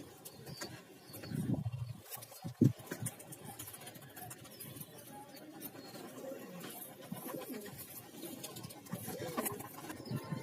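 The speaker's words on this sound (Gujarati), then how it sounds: "જો મિત્રો બધા કબૂતર ઉડે છે" A flock of pigeons, seven released together, takes flight with a short burst of flapping wings near the start, followed by soft cooing and faint fluttering over a light outdoor background.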